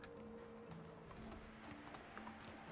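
Donkey hooves clopping at a steady walk in the farming game Medieval Dynasty, a soft, even clip-clop beat under a low humming game backdrop.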